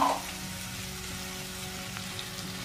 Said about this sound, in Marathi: मस्त हलवून घेऊ आपण आता याला.